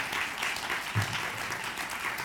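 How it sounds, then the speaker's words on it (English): Audience giving a round of applause at a poetry event, a brief, steady burst of many hands clapping at an even level throughout. "Can we have a round of applause for Amy?"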